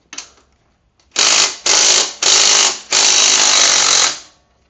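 A ratchet loosens the axle nut on an SSR XF250 dirt bike: four loud, close bursts of rapid clicking, each about half a second to a second long, after a short faint rattle.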